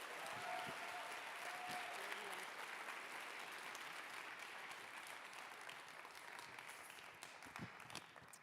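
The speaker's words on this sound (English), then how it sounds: "Let's give them another round of applause." A rally audience applauds the organizers, a steady wash of crowd clapping that stays level and fairly distant throughout and softens gradually near the end.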